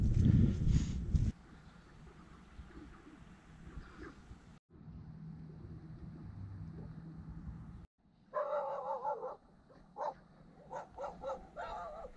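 Pack of stray dogs barking outdoors on a hiking trail in Guam, a few scattered barks and yips, fairly distant, with quieter stretches of background noise between bursts.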